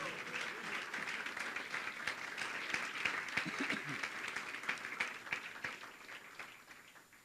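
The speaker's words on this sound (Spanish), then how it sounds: "Aplaude al Rey si tú lo crees." Church congregation applauding, a faint, dense patter of many hands clapping steadily across the room, with scattered voices mixed in.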